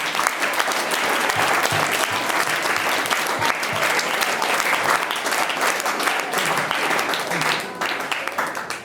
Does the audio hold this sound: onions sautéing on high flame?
no